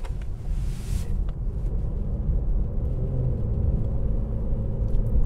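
A 2015 Infiniti Q60 coupe drives and corners on a wet road, heard from inside the cabin as a steady low engine and road rumble with wind noise, and no talking.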